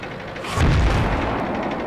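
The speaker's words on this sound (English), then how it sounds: "now the artillery spotted me and they're taking" An artillery shell lands near a Hetzer tank destroyer in World of Tanks, a single heavy booming blast that swells mid-clip and rumbles off, with no voices.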